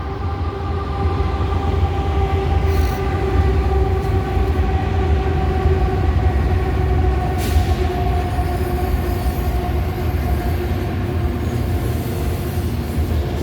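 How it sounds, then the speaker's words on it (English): A train passes steadily nearby, a dense continuous rumble of railcars with droning tonal whine and rattling wheels, loud throughout with no talking. "There's your confirmation train."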